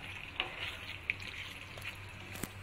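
Garam masala and spices are stirred into onion and capsicum in a hot pan, giving a faint, steady sizzle broken by a few light scraping clicks.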